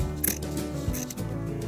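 Scissors trimming fabric for a small doll's wedding dress, giving a couple of short, close snips over a steady background hum.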